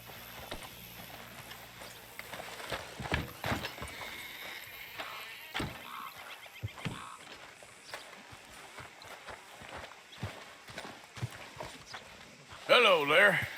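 Horse hooves clip-clopping in the video game Red Dead Redemption 2, a slowing run of hoofbeats with creaking tack as the horse is reined in, a voice calling out over it, and a horse's whinny at the end.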